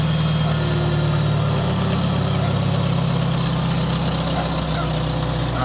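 A 1973 IH Farmall 140 tractor engine running at quarter throttle while still cold, a steady, loud mid-low drone with a slight drop in pitch partway through, heard close with no talking.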